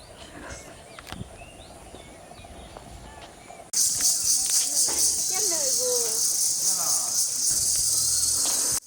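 A dense chorus of crickets on a farming char in rural Bangladesh: a faint insect hum gives way to a loud, steady, shrill drone that continues to the end, with voices underneath.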